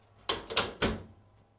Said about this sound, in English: Be careful not to pinch the lines in the door as you close it.